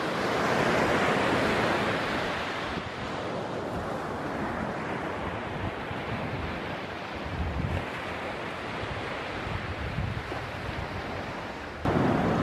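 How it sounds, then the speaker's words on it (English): Roaring Arabian Sea surf at Ganeshgule beach on the Konkan coast near Ratnagiri: a steady, loud, broadband wash of breaking waves with wind buffeting the microphone, swelling briefly near the end, and no talking. "Behind me, you can see this roaring Arabian Sea."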